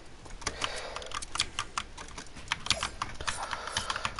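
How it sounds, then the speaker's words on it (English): Loud mechanical keyboard keys clatter during a Fortnite game, quick irregular clicks close to the microphone over a low background hum for about four seconds. "Yeah, it's a mechanical keyboard."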